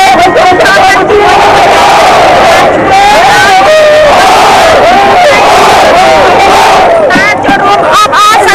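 A huge crowd roars and yells along the river during a Cambodian Water Festival boat race in November 2016, with loud continuous cheering, whoops and battle cries, near and dense throughout.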